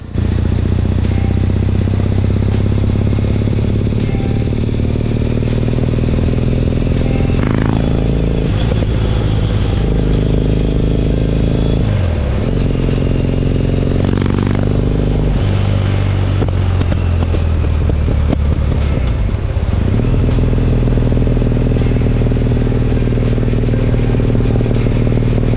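A Triumph Bonneville 865 engine drones steadily while riding on an open road, loud and continuous, with gear changes and shifts in revs heard as pitch drops and climbs, accompanied by wind noise.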